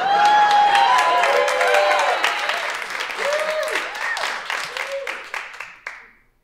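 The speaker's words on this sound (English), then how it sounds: "Hold for applause by those lazy fucks." Loud applause from a studio audience, dense clapping with scattered whoops and whistles, swelling at first and then gradually thinning and fading out to silence at the end.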